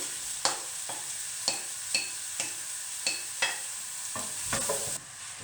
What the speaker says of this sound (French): vous rajoutez vos oignons émincés que vous faites suer